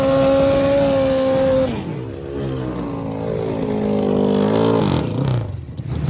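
Pro stock drag motorcycles, a V-twin and a four-cylinder Suzuki, racing side by side, loud revving engines rising in pitch through quick gear changes, then fading as the bikes pull away, no talk.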